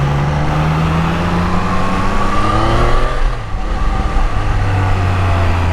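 Triumph Daytona 660 motorcycle with a stock exhaust, its engine droning steadily and shifting pitch as it rides, fairly quiet and continuous throughout.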